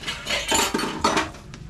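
Pink dishes and glasses clink and clatter in a kitchen sink as they are washed, a quick series of close, bright knocks and rattles.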